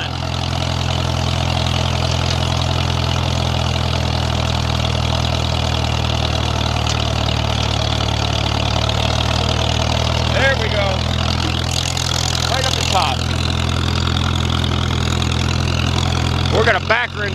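A Farmall 300 tractor engine labors on a steep muddy trail with a steady low-pitched drone, while people talk over it and a few clanks and rattles come near the end.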